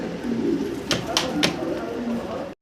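Imported fancy pigeons, a double-ringed pair, coo softly and repeatedly at a pigeon farm, the low rolling calls steady over a faint background hum.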